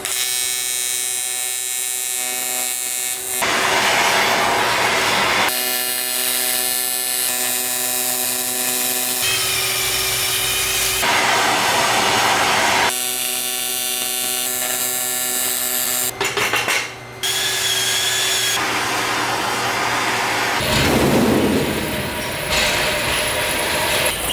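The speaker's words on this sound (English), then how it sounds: "So I'm gonna try my best to weld it up." Welding dirty metal in a garage workshop, loud continuous crackling and buzzing in long bursts broken by short pauses.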